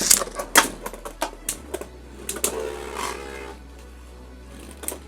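Beyblade Burst spinning tops clash in a plastic stadium, a left-spin attack type against a defense top, with a string of sharp clacking hits followed by a steady whirring spin.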